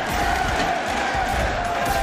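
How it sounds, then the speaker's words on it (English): A loud New York crowd roars continuously at a Street Fighter 6 tournament, a dense, steady wall of cheering with no breaks across the moment. "This New York crowd is going off right now."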